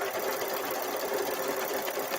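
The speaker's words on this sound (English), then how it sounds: "we're gonna go ahead and run that quilting in there" An embroidery sewing machine stitches quilting into fabric held in the hoop, working purple variegated thread. It gives off a steady, continuous mechanical whir with a fast, even stitching rhythm that runs on alone at moderate loudness.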